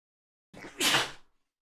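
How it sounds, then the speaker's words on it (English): A single sneeze, close and loud, with a short inhale followed by a sharp burst and quick fade, standing alone against silence. "Could not stop my narration and my sneeze."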